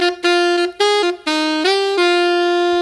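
The same song's saxophone passage with an amp-style saturator added sounds brighter and grittier, with richer upper overtones. A few legato notes glide into a long held tone, loud and up front, with no voices.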